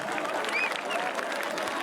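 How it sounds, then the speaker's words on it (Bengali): Audience applause at a concert during the Magh Utsav festival in Bardhaman, a steady dense wash of clapping from a crowd, continuous and fairly loud throughout, with no clear voice over it. "তাদের জন্য হাততালিটা আপনারা দেবেন"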